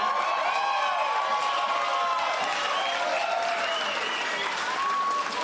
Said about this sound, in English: give a huge round of applause to Gerard Maley